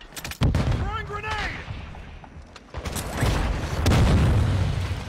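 In an online shooter, a thrown grenade bursts with heavy booms and rumbling blasts among other game sounds, while players' voices briefly call out over the action.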